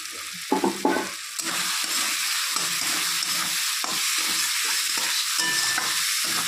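Chopped tomato, ginger-cumin paste and salt being stir-fried in a pan for a katla fish curry, a loud continuous sizzle with rhythmic scraping strokes of a spatula and a few clanks at the start.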